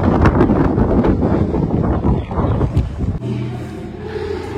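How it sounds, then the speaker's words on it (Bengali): Strong wind at Tajpur sea beach blowing hard across the microphone, a loud, gusty roar near and constant throughout the short clip, easing slightly toward the end. "ভাই, এইখানে এত হাওয়া,"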